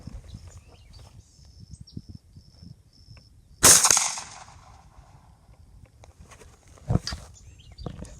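A shotgun fires a single roll-crimp slug shell outdoors, one sharp loud blast followed by a short fading tail, with quiet rustling and a faint later thump around it.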